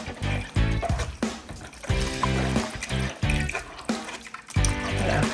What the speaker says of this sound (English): I'll be adding water to it to extract a little bit juice out of this